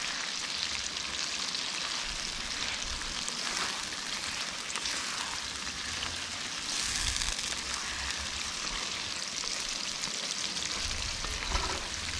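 Meat and carrots fry in oil for plov, a constant dense sizzle and crackle that holds steady at moderate volume throughout, close up and with no voices.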